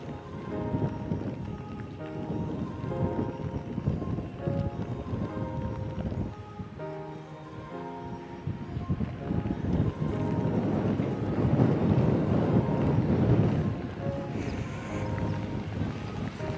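Strong wind gusts roar and buffet across an open golf course in California, a dense, continuous rush that swells louder near the end, with faint tonal sounds underneath.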